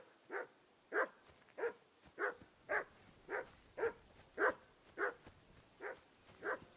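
A dog in the video game Kingdom Come Deliverance 2 barks in a steady, evenly spaced series of about eleven sharp yelping barks with whimpery edges, moderately close and alone without talk.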